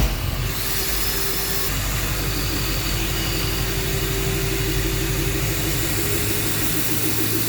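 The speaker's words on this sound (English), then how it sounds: "I'm going to fire the car up and we'll see what it moves down to." A diesel car with a converted factory fuel pump idles, giving a loud, continuous rumble with rhythmic low knocking, and a brief louder burst marks the start at the beginning.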